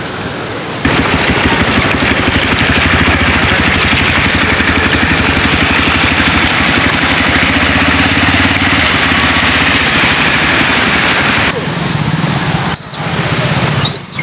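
Vehicles crawl along a road flooded by a fast-flowing stream. A steady engine drone and low rumble run close by over the rush of water, then shift near the end.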